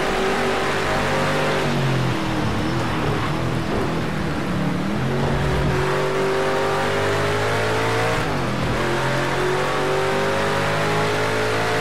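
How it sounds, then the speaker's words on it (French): A Ford Mustang GT4 race car engine in the racing game Project Cars 2 drones loudly and continuously, its pitch climbing through gears with brief dips at shifts around two, five and eight seconds, no voices. "Ah, écoutez-moi ce bruit de moteur."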